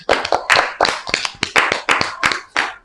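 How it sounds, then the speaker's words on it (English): Audience applause for mothers at a workers' gathering, a run of sharp, rhythmic hand claps about three per second, close and loud, with no one talking over it. "let's give a round of applause for our mothers out there"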